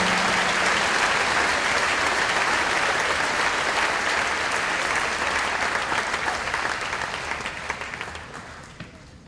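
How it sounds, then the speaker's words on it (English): An audience at a middle school graduation ceremony bursts into sustained, dense applause that holds steady and then gradually fades away near the end. "Please welcome them with a round of applause."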